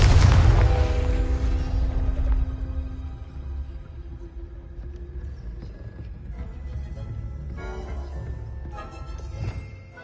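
A loud Confringo explosion spell from Hogwarts Legacy hits with a heavy boom at the very start. It rings out and decays slowly, leaving a lower rumble with scattered clatter and a smaller burst later on.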